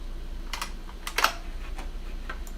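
Scattered keystrokes on a computer keyboard, a few sharp clicks in irregular bursts with one louder tap in the middle, over a quiet steady hum.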